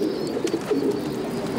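Pigeons coo close by in soft, low, repeated throaty calls, with faint chirps behind them and no talking.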